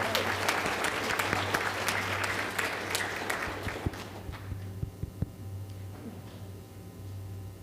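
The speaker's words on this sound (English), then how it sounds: "Let's give them one more great round of applause." Round of applause at a school board meeting congratulating a high school team, dense clapping at first, then thinning to scattered claps and fading over a low steady hum.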